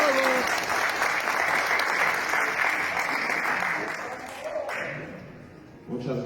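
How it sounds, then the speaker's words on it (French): A crowd at a championship presentation applauds player Mario Insignales with sustained clapping that tapers off, and a voice speaks briefly at the start and end. "Vos applaudissements pour Mario Insignales."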